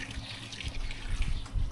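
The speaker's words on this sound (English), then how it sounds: "pour in the water," Water is poured onto dry Postcrete in a fence post hole in a garden, giving a steady close splashing trickle for under two seconds with no talk.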